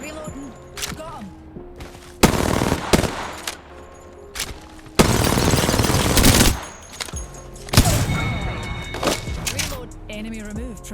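Bursts of automatic gunfire in the Apex Legends battle royale shooter, several loud sustained volleys separated by brief quieter stretches, with in-game voice lines and other game sounds in between.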